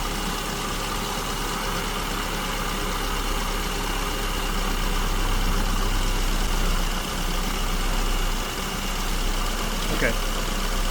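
A car engine fitted with an SU carburetor idles close by, its mixture set lean, and the idle speed swings up and down in a steady, rough rumble that fills the whole stretch.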